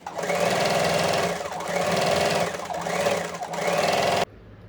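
Sewing machine stitching blouse lining fabric hums in a fast, close, steady run with slight rhythmic surges, then cuts off abruptly just before the end.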